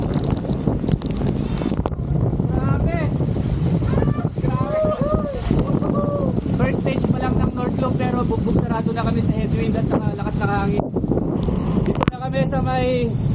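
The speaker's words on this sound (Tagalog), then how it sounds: "Grabe, napakalakas ng hangin" Strong wind of about 120 kilometers per hour roars and buffets the microphone continuously while a person talks over it during a bike ride in North Luzon.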